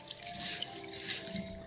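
Lentils and rajma being rinsed in a bowl of water give soft splashes, swirls and light drips, close and quiet with no talking.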